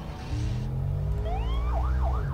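Police patrol car siren in GTA San Andreas, a loud wailing tone that rises and falls in repeated sweeps over steady engine rumble, close and continuous.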